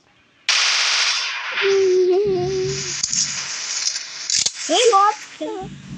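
A rapid burst of video game gunfire runs almost continuously after a sudden start, loud and close, while a voice talks over the shooting.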